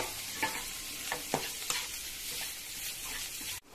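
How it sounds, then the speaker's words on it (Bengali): Snake gourd frying in a pan with grated coconut, a continuous close sizzle broken by several sharp stirring scrapes, no voices. "জল চিপে চিপে চিচিঙ্গাটা এর মধ্যে দিয়ে ভালো করে মিশিয়ে নেব।"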